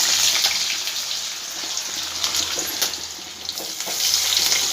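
Potatoes sizzle in hot oil in a pan while a vegetarian Bengali greens dish is cooked, giving a steady, bright hiss with crackling pops throughout, loud and close with no talk.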